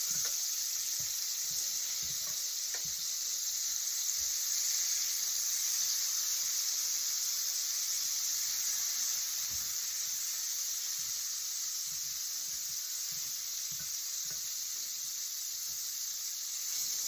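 Butter melting in a cast iron pan gives a steady, soft hiss and faint crackle that runs evenly throughout, with no voices.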